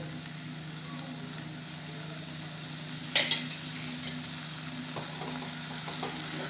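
Curd and tomato puree for chicken biryani fry with a low, steady sizzle in a pan, with a sharp metallic clink of a spoon at the midpoint followed by a few faint stirring scrapes.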